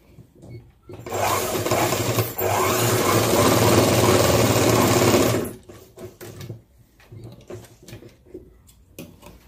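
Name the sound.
sewing machine stitching cloth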